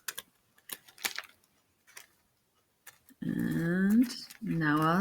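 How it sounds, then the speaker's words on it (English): Scissors snip leftover packing tape from the edges of a handmade product package, giving a quick run of small, sharp clicks at close range, followed by a voice talking. "now I'm going to cut the remaining tape off the edges"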